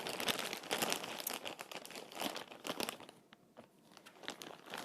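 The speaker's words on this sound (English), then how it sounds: "I'm sorry for the crinkling." Close, crisp crinkling of packaging with rapid rustles and crunches, busier at first, then a quieter stretch before the crinkling picks up again.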